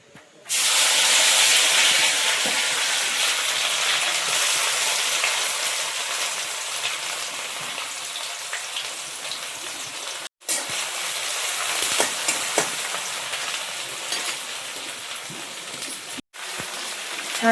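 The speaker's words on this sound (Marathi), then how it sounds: "हे वाटण तेलामध्ये टाकायचंय आता." A ground spice paste with garlic hits hot oil in a pan and sets off a loud, sustained hiss that slowly settles into a steady sizzle over many seconds, broken twice by brief cuts. No one speaks.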